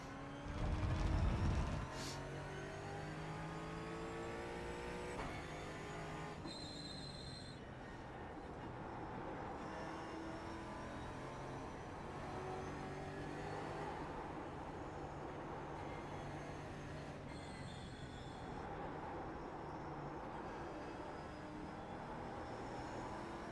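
A Ford Mustang GT4 race car engine roars in the iRacing simulator, its revs climbing and dropping through gear changes in a continuous, moderately loud drone.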